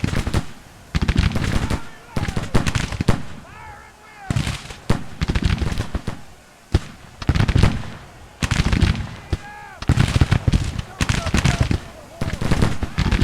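Gunfire crackles through a Grand Tactician video game battle in ragged volleys, bursts of sharp shots separated by short gaps, loud and close, with voices faintly mixed in.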